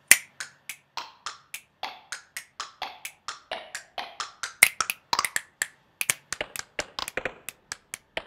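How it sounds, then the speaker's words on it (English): Finger snaps trigger a SuperCollider patch, crisp sharp clicks repeating in a steady rhythm that speeds up into denser, uneven bursts, each snap clear and close with quiet gaps between. "So if I do this and then I snap"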